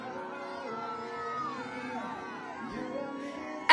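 A rally crowd at a Planned Parenthood patients' rights event shouts in unison after a countdown, many voices overlapping into a sustained collective yell with scattered whoops that holds steady for several seconds.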